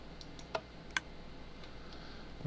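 Dispenser clicks from a Minecraft mob spawner setup, heard as two crisp ticks close together and a few fainter ones after, against a quiet hissing background.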